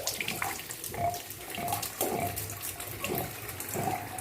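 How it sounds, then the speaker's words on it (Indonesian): Water pours from above into a household water pump that sits horizontally, a close, steady splashing and gurgling stream with small bubbly surges. "jadi diisi air ya seperti ini"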